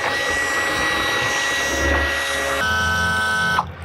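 A Suzuki outboard engine's electric power trim motor lowers the engine, a close, steady high-pitched whirring buzz that shifts tone partway through and stops abruptly near the end.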